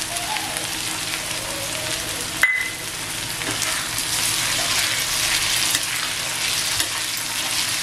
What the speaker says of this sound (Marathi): त्याच्यात आहे ना आता मी हा टॅमॅटो टाकते.